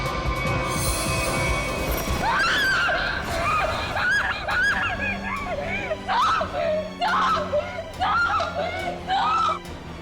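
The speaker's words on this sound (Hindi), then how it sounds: "इतनी जोर से क्यों चिल्ला रही है?" A woman screams loudly in a series of shrill, wavering cries that rise and break over several seconds, close and intense, following an indoor scene with a background hum.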